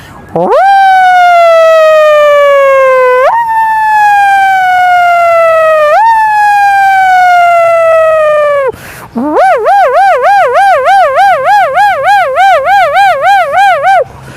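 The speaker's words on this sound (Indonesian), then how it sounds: "Sirene meraung di mana-mana." A loud emergency siren wails in long rising and falling sweeps, then switches to a rapid warbling yelp, close and continuous.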